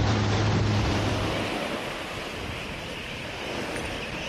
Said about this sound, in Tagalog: Maging ang maikling biyahe patungo sa isla, extra challenge dahil sa mga alon.